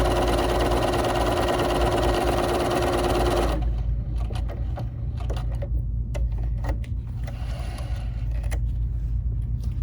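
A BERNINA 3 Series sewing machine runs steadily as it feeds fabric through while sewing a decorative stitch. The motor hums loudly and continuously, with a dense whir at first that thins into a lower drone with light clicks.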